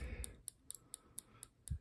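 Sharp, faint, evenly spaced clicks from a Leatherman multitool mechanism come about four times a second, close and crisp over a quiet background, with a soft low thump near the end.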